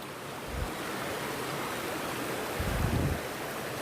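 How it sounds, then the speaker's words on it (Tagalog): A stream flows and rushes in a steady wash in Korea, with a couple of low wind-like rumbles; no voices. "Ayan yung tubig."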